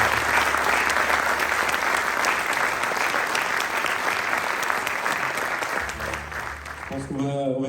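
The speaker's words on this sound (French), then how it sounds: "vous pouvez encore les applaudir s'il vous plaît" An audience at a launch conference for a long-distance biofuel coach line applauds loudly and steadily, a dense wash of many hands that thins toward the end as a voice begins to speak.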